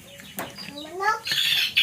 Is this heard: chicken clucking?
yes